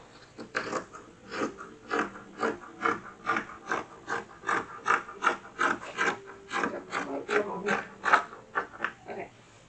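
Scissors cutting through fabric while trimming excess from gussets for an 1830s-style child's shift, heard as a steady series of close, crisp rasping snips in an even rhythm with no voices.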